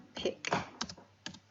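Keys clatter on a computer keyboard as a word is typed in during a Unity game-tutorial setup. Four short, close, clicky bursts come at an uneven pace, with no talking.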